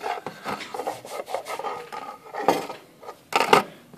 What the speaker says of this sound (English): Try scraping it a little bit.